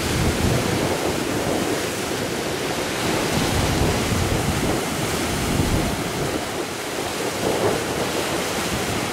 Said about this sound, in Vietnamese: Ở khu vực biển này bây giờ sóng rất là lớn các bạn.